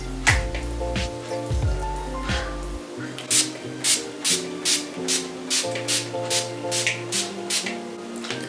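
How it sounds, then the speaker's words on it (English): Makeup setting spray is pumped in about a dozen quick, evenly spaced hissing bursts, close and fairly loud, after a few seconds of faint background music. "those first three sprays didn't even hit my face"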